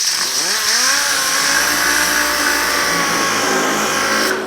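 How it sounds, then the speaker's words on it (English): A DA sander fitted with 80 grit works the hood of a 1950 Chevy truck, whining up to speed and then holding a loud, steady, buzzing drone close by. "I'm using 80 grit on the DA"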